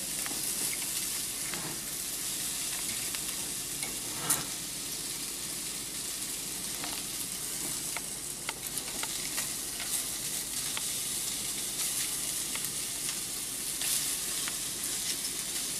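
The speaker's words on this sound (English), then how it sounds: "the sausages are really getting cooked on there" Sausages frying on aluminum foil in a skillet, a steady close hiss and crackle with scattered sharp pops throughout, no talking over it.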